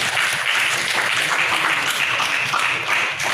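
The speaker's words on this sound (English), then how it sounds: "he needs a round of applause from all of us" Dense audience applause at an event honouring a six-year-old boy's Asia Book of Records feat, steady close clapping from many hands that continues without a break.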